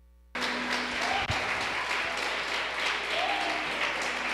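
A church congregation applauds steadily for several seconds after a brief silence, dense clapping filling the room at moderate distance, with a faint voice briefly audible underneath.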